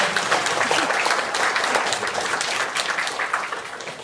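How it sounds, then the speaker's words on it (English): A community audience in Placentia breaks into a big round of applause, dense and sustained clapping from many hands, close and steady throughout with no speech over it. "Give her a big round of applause"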